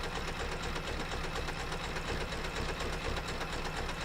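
Computerized embroidery machine stitching a double-stitched block design, sped up, with a fast, steady mechanical chatter and whir that runs evenly throughout, close and moderately loud with no talking.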